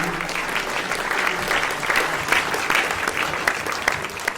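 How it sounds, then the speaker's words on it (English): Dense, sustained crowd applause from an audience at a football club's meet-the-manager event, loud and steady throughout with scattered sharper claps and no clear talk. "But give them a massive round of applause for turning out and doing this for you."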